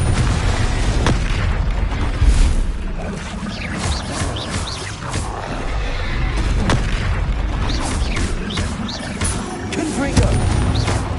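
Repeated Confringo blasting-spell explosions from a Hogwarts video game, booming bursts layered over constant loud combat noise with low rumbling impacts throughout.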